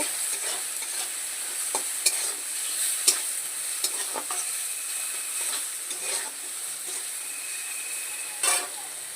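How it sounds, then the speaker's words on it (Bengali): Potatoes seasoned with salt and turmeric fry in a pan with a continuous hiss, while a spoon scrapes and clicks against the pan at irregular intervals, up close and fairly quiet, with no voices. "আলু ভাজার মতো একটু স্বাদ মতন লবণ দিয়ে দিলাম একটু পরিমাণ মতো হলুদ দিয়ে দিলাম দিয়ে আলুটাকে একটু সুন্দর করে ভেজে নেব"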